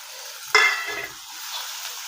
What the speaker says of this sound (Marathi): जिरं टाकून घेतला हिंग टाकून घेतला मिरची टाकून घेतली हे परतून घेऊ आपण